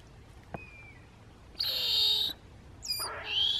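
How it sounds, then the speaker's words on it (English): An African fish eagle calls in the wild among dwarf mongoose territory, giving two loud, ringing bursts of yelping cries, the second rising and broken, over a quiet background with a faint earlier chirp. "I just heard a fish eagle."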